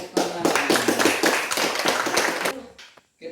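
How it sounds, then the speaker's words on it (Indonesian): A small group of students claps in a classroom, a brisk patter of close handclaps lasting a few seconds before it stops abruptly. "Tepuk tangan."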